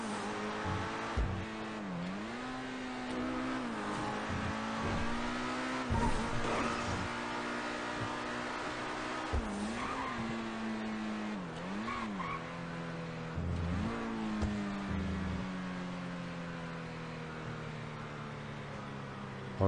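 Lamborghini in a video game engine note drones steadily, with harmonic pitch dips and rises as gears shift and revs climb, plus brief tire squeal and skid bursts throughout.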